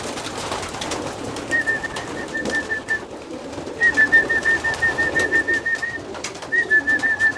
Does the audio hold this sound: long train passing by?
no